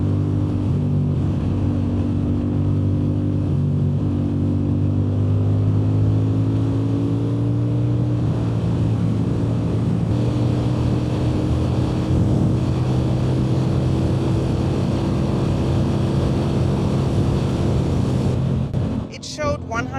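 A CFMOTO 450 CL-C motorcycle engine rumbles steadily and loudly while riding, its pitch slowly rising as the bike gains speed over a constant roar of wind noise, and the sound fades out near the end.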